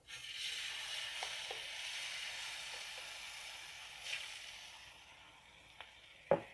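An apple, egg and cheese roll fries in an oiled pan over low gas heat, giving a soft, steady sizzle that slowly fades, broken by a few light clicks and a sharper knock at the end.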